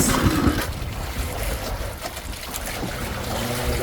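Heavy sea waves wash and slap around a small fishing boat at sea, with steady wind buffeting the microphone; a continuous, rough roar of water and wind with no talking.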